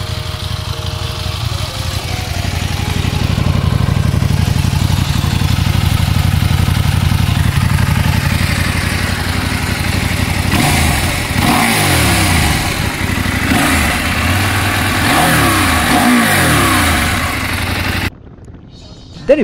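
KTM motorcycle engine and exhaust, a steady low idle that rises into several rhythmic revs, close and loud, before cutting off abruptly near the end.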